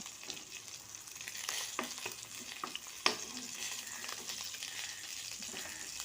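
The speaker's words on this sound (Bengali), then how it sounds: "এভাবে আমি সব মাছ ভেজে নিয়ে তারপর একটা একটা করে তুলে নেব" Rohu fish sizzling in hot oil with a soft, steady crackle, punctuated by a few sharp taps and spatters, fairly quiet and with no talking.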